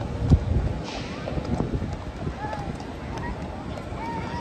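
Horses' hooves clip-clop at the Minnesota State Fair near a horse show, a soft irregular clatter heard under close conversation and buffeting wind noise.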